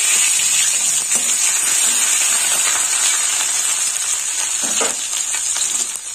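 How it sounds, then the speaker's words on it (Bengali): Dried chilli, ginger, bay leaf and whole garam masala tempering frying in hot oil for tomato chutney, a steady close hiss and sizzle with occasional small pops and crackles, no talking. "মুখগুলো একটু ফাটিয়ে নিয়েছি, ফোড়নটা একটু ভাজা হবে।"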